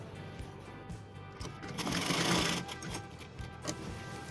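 A sewing machine stitches a long gown, making a soft, quiet mechanical whir that swells slightly midway through a few seconds of running.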